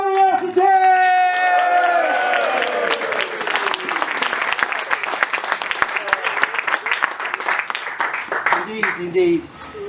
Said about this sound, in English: Thank you for that spontaneous welcome and applause of appreciation